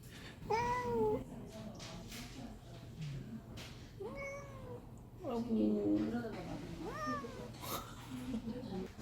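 A young cat, three years old and about 6 kg, meows repeatedly in short rising and falling calls, close and fairly clear, with people talking quietly in the room.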